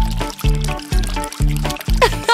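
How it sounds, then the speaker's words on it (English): Cartoon water pours into a sink to fill it, a steady liquid splash running beneath bouncy harmonic music and a voice speaking. "Monster Cars fill the sink with clean water."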